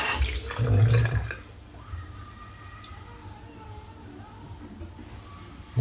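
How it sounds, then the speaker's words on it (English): Water runs briefly from a tap to wet a Razor Rock alum shaving block, a short rush of flowing water up close, followed by faint quiet room sound and a low trickle. "And then wet the block."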